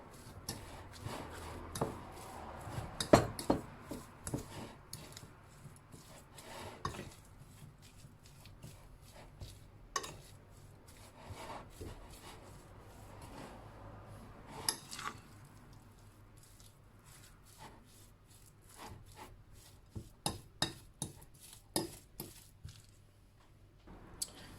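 Potato and egg filling for samosas being mixed and mashed by hand in a bowl: soft, wet squishes and dull taps come in irregular bursts, close and fairly quiet, with a cluster of quicker mashing strokes near the end.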